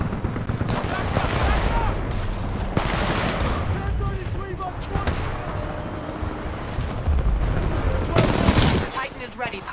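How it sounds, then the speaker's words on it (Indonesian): Heavy gunfire aimed at the player in the video game Titanfall, with rapid bursts and shots continuing throughout under game speech and a loud cluster of shots near the end. "Tahu berapa ramai yang tengah tembak aku."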